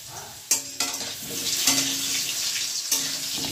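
Spices being stirred into mutton curry frying in a pan, with a steady sizzle and a few sharp scrapes and knocks of the spoon against the pan, close and unaccompanied by talk.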